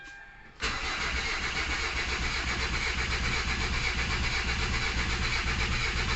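A 2011 Kia Sorento automatic cranks without catching: after a brief quiet start, the starter and engine whir kick in abruptly and run as a steady, loud, unbroken grinding drone to the end.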